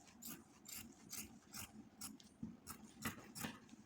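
Scissors snip through the shoulder of a frock nighty, giving a rhythmic series of crisp, close crunching cuts at a steady pace, with no voices.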